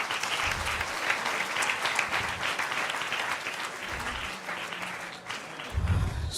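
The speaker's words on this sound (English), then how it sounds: "we'll start with a big round of applause to all those who presented here today" Sustained round of applause from a conference audience of laboratory education professionals, steady and dense throughout, with faint murmurs and low thumps beneath the clapping.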